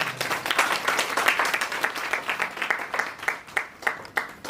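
Loud applause at an SBCCI agriculture and import-export event, a strong dense burst of clapping that thins into scattered separate claps near the end.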